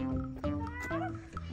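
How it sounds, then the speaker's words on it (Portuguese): A cat in a video game gives a few drawn-out, wavering meows close by, one after another over a short stretch. "Ah, tem gato aqui."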